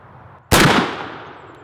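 Single loud report from a Thompson Center Hawken percussion muzzleloading rifle, an abrupt close blast followed by a decaying echo tail outdoors.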